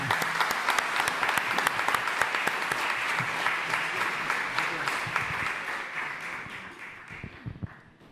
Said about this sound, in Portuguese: nós vamos dar uma salva de palmas a todos aqueles que já chegaram na terceira idade